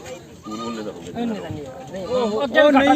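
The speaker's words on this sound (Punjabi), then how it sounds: "ਇਹ ਹੋਰ ਆ ਕਾਲਾ ਬੱਕਰਾ" Goats bleat in short wavering cries at a crowded goat market, mixed with people talking nearby, the calls growing louder toward the end.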